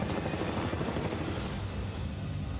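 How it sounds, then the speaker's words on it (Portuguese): A military Black Hawk helicopter thunders nearby, its rotor chop a steady, dense pulsing under a broad turbine roar with no pause. "Esse helicóptero é militar. É um Black Hawk."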